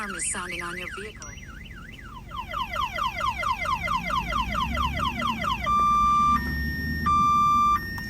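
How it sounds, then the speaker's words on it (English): An aftermarket vehicle alarm on a Peterbilt truck cycles loudly through falling chirps, a wavering whoop, rapid repeated sweeps and then long steady beeping tones, with a low rumble underneath. "Your alarm is sounding on your vehicle."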